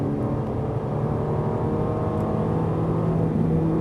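A Ferrari 458 Italia on the Fay-de-Bretagne track gives a loud, steady engine drone that builds slightly as it accelerates, heard from inside the car.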